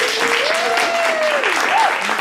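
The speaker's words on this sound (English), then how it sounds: "Please give a warm round of applause for John Kohler." A crowd at a health talk applauds steadily and loudly, a dense wash of clapping lasting the whole moment, with a voice rising briefly above it.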